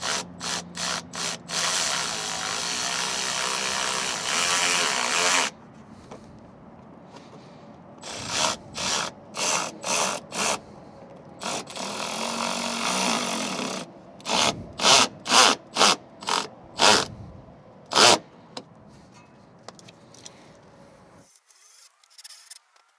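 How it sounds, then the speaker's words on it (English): A hand ratchet drives a pointed self-tapping screw into the body of a Dodge Charger Scatpack to mount a rear diffuser, rhythmic bursts of grinding clicks, first in a steady run, then in separated strokes with pauses. "use my ratchet and make the hole with the screw right here"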